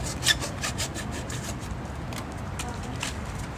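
Material for a pigeon cage is being cut by hand, a quick run of close, rasping saw-like strokes in an uneven rhythm, heaviest early and then tapering into lighter scrapes.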